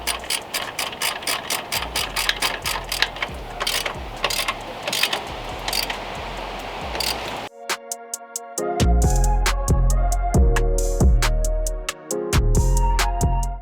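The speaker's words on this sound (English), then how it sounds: "we can come in here and begin to torque down all the mounting bolts" Mechanical clicking and ratcheting while AC compressor mounting bolts are torqued down on a 1995 Chevy C1500, a rapid run of close ticks followed by louder, heavier rhythmic clunks.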